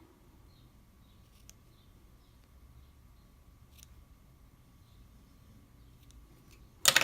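A cotton wick being trimmed with scissors while building a vape coil: a few faint, sparse snips over a quiet hum, ending with a sharper, louder handling noise.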